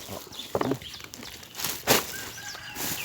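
Birds and fowl on a pig farm, a flurry of calls and wing flapping with a rooster-like cluck, moderately close outdoors with no talking.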